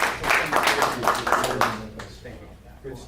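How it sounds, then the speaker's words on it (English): A school board meeting audience applauding, a burst of close, brisk clapping for about two seconds that fades out as a voice continues. "let's give Dad a round of applause"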